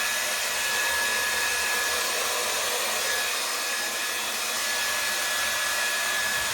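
A blow dryer runs steadily at close range drying a pet's fur, a constant loud whooshing hiss with a faint high whine and no pauses.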